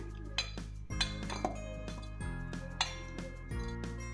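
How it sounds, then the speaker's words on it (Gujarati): Several frozen grape-juice ice cubes clink and knock into a glass one after another, bright close rattles spaced irregularly over a low steady hum. "ગ્લાસમાં આપણે આઈસ ક્યુબ આપણે બનાવેલા છે દ્રાક્ષના એ આઈસ ક્યુબ અંદર નાખશું"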